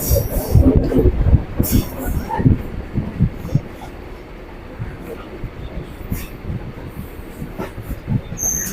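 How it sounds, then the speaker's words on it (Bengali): A local train pulling into Patipukur station on the Eastern Railway, heard from on board: wheels rumble and clatter rhythmically with occasional squeals, loud and close, under faint voices. "আমাদের ট্রেনটা এখন ঢুকছে হচ্ছে পাতিরুপুর স্টেশনে"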